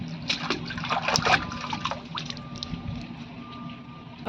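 A home-grown bottle gourd is washed by hand in water to rinse off soil, giving close splashing, sloshing and dribbling with irregular rubbing and handling knocks, fairly loud and without talk.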